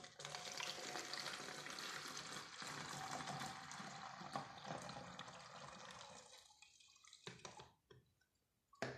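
Liquid poured into a baby bottle makes a steady splashing, trickling stream for several seconds, then tapers off into a few faint drips near the end.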